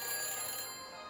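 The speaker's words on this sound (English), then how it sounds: "Vamos a llamar a la cabina del teléfono del futuro." Phone ringing after a call is dialed in the Back to the Future video game: a steady electronic ring tone, bright and continuous, heard alone without voices and fading slightly toward the end.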